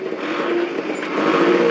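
A red 1934 Aero vintage car pulls away from a start line at a race event, its engine a steady close mid-pitched hum that revs up slightly as it departs, with no talk over it.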